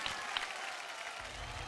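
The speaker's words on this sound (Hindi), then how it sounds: "जोरदार तालियां" Applause from a crowd at a televised talent show, a steady wash of many hands clapping heard somewhat distant and soft, continuing throughout without pause.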